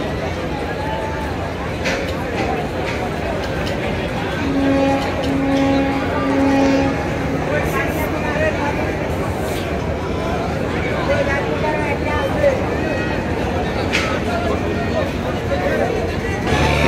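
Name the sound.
passenger launch (ferry) reversing in back gear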